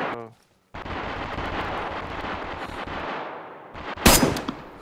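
Gunshots in a shooter video game: a sustained roar of rapid firing after a brief silence, then a sharp, very loud blast near the end.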